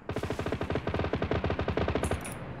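Rapid automatic gunfire in ARMA 3 aimed at transport helicopters, a tight stream of about thirty evenly spaced shots in bursts, loud and close, ending in a softer tail with faint high chatter.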